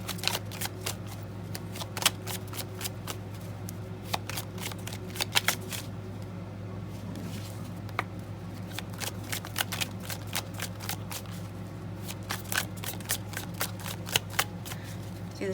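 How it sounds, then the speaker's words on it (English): Tarot cards are shuffled close up in quick, repeated riffling bursts of crisp papery snaps, spaced irregularly over a faint steady hum, with no talking. "the shuffling process can take a minute,"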